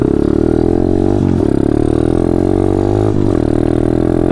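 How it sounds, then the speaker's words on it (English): A pit bike engine runs steadily nearby with a persistent rattling clatter over its low drone, dipping briefly twice as if the throttle eases, loud and continuous with no talk. "There's, like, some weird rattling noise on the bike."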